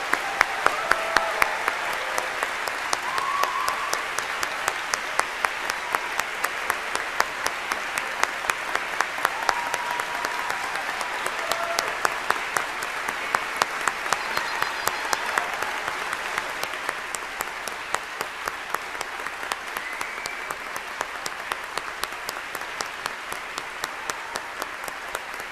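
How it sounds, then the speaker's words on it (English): Steady audience applause at a graduate convocation ceremony, a sustained wash of many hands clapping that continues evenly for a long stretch, moderately distant and without speech. "Let's have one more round of applause for all of the 2012 graduates."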